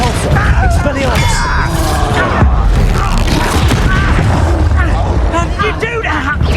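An Expelliarmus spell is cast during a Hogwarts Legacy duel, a loud booming magical impact amid dense combat whooshes and clanks, with voices shouting over the action.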